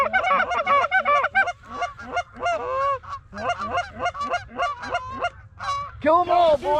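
A flock of ducks and geese flies overhead during a Canadian hunting opener, with loud overlapping honks and calls coming in rapid bursts close by over a low background rumble.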